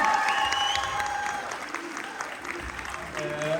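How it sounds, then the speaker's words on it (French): Audience at a Naatu Naatu dance show claps for the young dancers, moderate applause under a spoken voice throughout. "Applaudissez-les."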